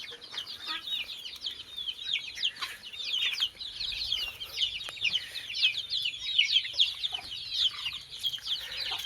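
Free-range country (gavran) chickens on a poultry farm cluck and chatter continuously, with many overlapping calls at moderate distance.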